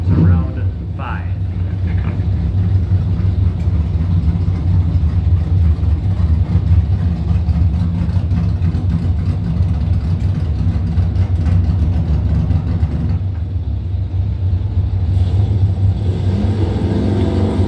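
Drag race car engine revving during a time trial at the strip, with a loud, steady low rumble that runs the whole length and a brief surge near the start, while a voice talks over it.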